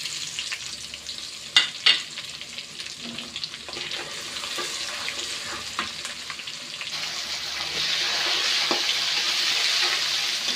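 Garlic sizzles and crackles in hot oil for a hog plum pickle, a steady close frying hiss with a couple of sharp clatters early on, growing louder and brighter toward the end.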